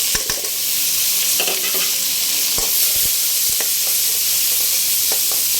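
Onion and green chilli sizzling in hot oil alongside fried fish, stirred with a utensil that knocks and scrapes the pan in irregular clicks over a loud, constant hiss.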